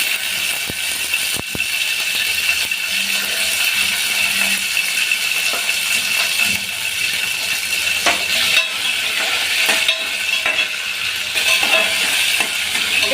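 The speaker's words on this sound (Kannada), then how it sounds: "ಕಡಲೆ ಮೆಣಸಿನ್ಕಾಯಿನ ಒಂದು ಸ್ವಲ್ಪ ಫ್ರೈ ಮಾಡ್ಕೊಳ್ತಾ ಇದ್ದೀನಿ ಈಗ ಅದಕ್ಕೇ ಬೆಳ್ಳುಳ್ಳಿ ಸೇರಿಸ್ತಾ ಇದ್ದೀನಿ" Chilies and garlic fry in oil in a pan, giving a steady close sizzle with occasional faint clicks of stirring, continuous throughout and without talk.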